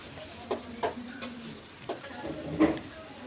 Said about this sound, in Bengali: আর এদিকে সবশেষে আলু ভাজিটা আমি করে নিচ্ছি।